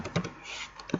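Quick keystrokes on a computer keyboard, heard as a couple of soft, close taps at the start and end of a short burst with a quiet gap between them.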